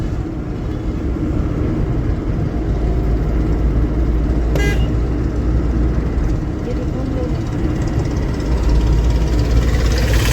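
Heavy road traffic jam near the Khavdi railway crossing in Jamnagar: a steady, loud rumble of idling engines with a brief horn toot midway and more honking near the end.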